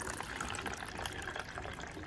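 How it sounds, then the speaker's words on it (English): Water pours into a cup for a home salt-water experiment, a soft continuous gushing trickle at moderate distance with no talking. "Yes, we need to add water here."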